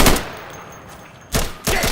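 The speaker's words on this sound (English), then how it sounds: "I have no idea where I just got shot from." Video game gunfire: a loud burst at the start, then two more sharp, close bursts a moment apart, with no voices.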